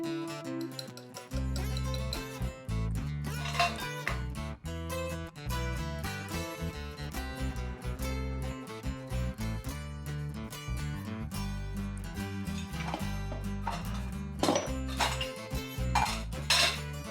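Dal added and mixed into chicken curry in a pot, a spoon repeatedly clanking and scraping against the metal pot in uneven bursts, close and busy throughout with no talking.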